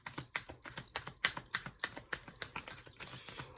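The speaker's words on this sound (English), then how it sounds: "I don't think I ever shuffled these cards so slow in my life." Tarot cards being shuffled slowly, giving a steady run of soft, close, rhythmic flicks and taps with no talking.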